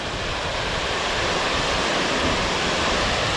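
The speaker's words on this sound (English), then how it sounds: "Rocky Brook Falls." Rocky Brook Falls, a waterfall on the Dosewallips River area in Washington, roars as a steady, loud, broadband rush of falling water, close and continuous with no talk.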